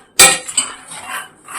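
Fox nuts (makhana) being stirred while dry roasting in a pan, a sharp scrape and rattle of the puffs against the pan followed by lighter rustling clatter, close and alone.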